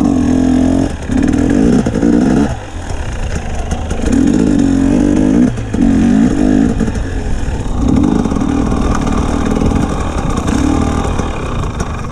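A motorcycle engine revs repeatedly in surging bursts, rising and falling in pitch against a steady rumble, loud and close.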